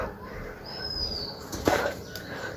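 A pair of pigeons flutters in close by, a brief burst of wing flaps around the landing against a soft background hiss, with a faint high whistle earlier.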